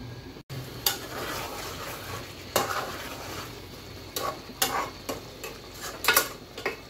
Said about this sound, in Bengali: মাঝে মাঝে একটু নেড়ে চেড়ে দিচ্ছি যাতে তলায় না লেগে যায়